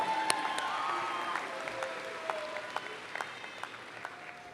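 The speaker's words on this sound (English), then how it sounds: "Let's give them a good applause." Steady applause from a crowd at a school commencement honoring the staff, a dense patter of many hands clapping continuously with a few sharper individual claps standing out.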